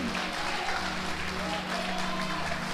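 A church congregation applauds, a thick wash of clapping blended with sustained music and a voice, loud and continuous without a break.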